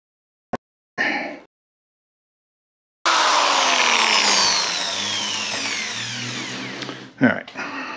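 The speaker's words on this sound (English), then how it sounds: "just drilling enough to make it easy for my air chisel to knock the heads off" An air chisel hammers at rivet heads on a transmission differential, a harsh sustained burst of rapid metallic impacts lasting several seconds, preceded by brief short bursts and followed by a couple of sharp knocks.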